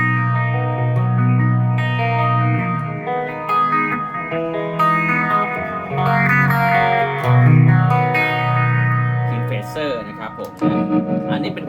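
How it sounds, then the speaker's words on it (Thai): Clean electric guitar tone through a Sonic Cake multi-effects box, sustained chords and single notes with chorus and reverb shimmer, played close and steady for several seconds. "เสียงคลีน"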